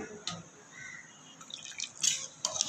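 Water is added to a pot of broiler chicken curry, heard as faint, sparse drips and light splashes in a quiet kitchen.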